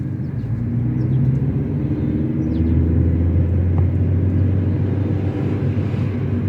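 A car on a driving-lesson route rumbles steadily from inside the cabin, its engine note rising gently as the driver presses the gas again after passing a speed bump, with no talk.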